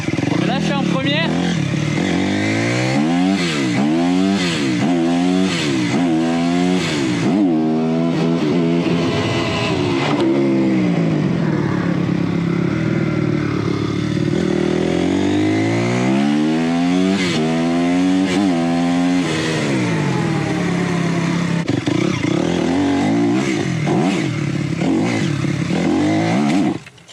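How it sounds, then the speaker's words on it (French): A Honda CRF 250 R motocross bike revs hard in first gear, the engine note climbing and dropping in repeated loud, rising sweeps, up close. A voice talks intermittently over the engine. "C'est une moto qui lève à tous les rapports"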